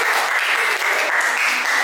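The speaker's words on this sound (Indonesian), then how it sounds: "Tepuk tangan untuk Dianova" Steady audience applause in a classroom teaching session, dense and continuous clapping filling the whole stretch at a fairly close, even level.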